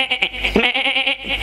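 A goat bleats loudly and close by, one long wavering cry with a couple of shorter bleats before it, and nothing else over it.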